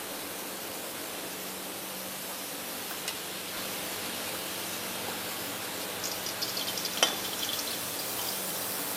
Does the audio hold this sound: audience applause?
no